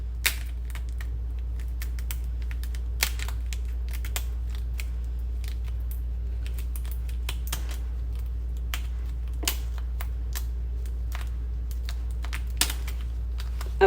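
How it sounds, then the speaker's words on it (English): Kitchen shears cut along the back of a lobster tail shell. A few faint, sharp snips and clicks sound at intervals over a steady low hum. "you're going to take your shears, you're going to slide it under here, and you're going to cut your back all the way down"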